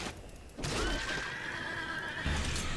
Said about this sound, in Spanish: Caballitos.